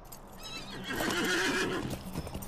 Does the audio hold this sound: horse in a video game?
yes